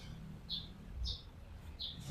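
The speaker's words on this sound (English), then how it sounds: "And there's a bird." A bird chirps outdoors in three short, faint, evenly spaced calls over a low background rumble.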